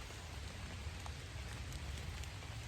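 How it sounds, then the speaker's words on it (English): Steady rain falls outdoors in a continuous, even hiss with faint patter of drops, moderately quiet and unbroken, with no voices. "So, with this rain, these big boys will be on their feet tonight."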